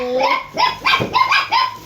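A dog barks at close range, loud and somewhat whiny, with about four or five short yelping barks in quick succession and no talk over them.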